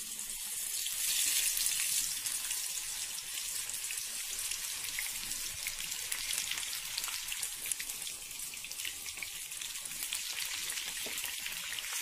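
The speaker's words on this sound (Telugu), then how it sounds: "అన్ని ఒకటేసారి కాకుండా కొన్ని వేసుకుని మనం దీనికి డీప్ ఫ్రై చేస్తున్నాం" Bitter gourd pieces deep fry in very hot oil, a dense, steady crackling sizzle with popping bursts throughout and no talking.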